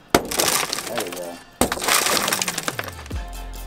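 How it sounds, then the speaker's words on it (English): A car window is shattered with a small pen-style glass breaker tool. Two loud, sharp smashes about a second and a half apart are each followed by crackling, tinkling glass. "Smashing a window, it's pretty easy."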